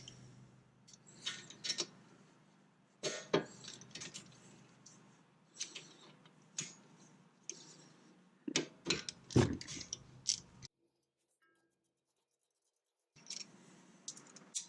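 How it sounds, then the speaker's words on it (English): Bolts on the back of a brake caliper on a Nissan Juke are loosened with tools, giving a series of sharp metallic clicks and ratcheting scrapes in irregular bursts, with a brief silent gap near the end. "we're going to go ahead and take off the two bolts on the back side of the caliper here"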